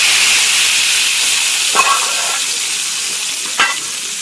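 Hot oil sizzles and hisses loudly and steadily, with two brief sharp crackles as the spiced tempering is poured into kadhi pakora curry.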